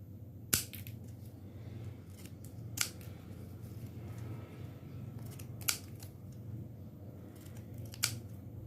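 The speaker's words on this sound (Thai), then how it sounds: "แล้วเราก็จะใช้กรรไกรซิกแซกนะคะ ตกแต่งนะคะ" Zigzag craft scissors snip paper during a decorating step in a DIY folding project, four sharp, separate cuts spaced a few seconds apart over a steady low background hum, with no talking.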